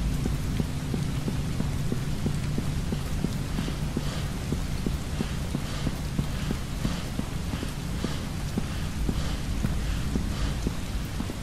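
Steady heavy rain patters densely in the horror exploration video game Shadows Peak, a continuous loud wash with regular soft thuds and a low rumble of thunder underneath.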